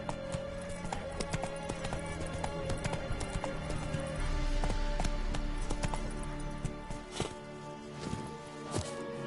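Hooves of Roach, the horse in The Witcher 3, clip-clopping in a steady trotting rhythm over game music and ambience, close and moderately loud throughout.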